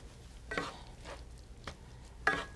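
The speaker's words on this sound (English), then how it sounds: "Stir that up a little bit." Cilantro being stirred into a quesadilla filling in a pan: a handful of soft scraping strokes at uneven intervals, close and quiet, with no voices.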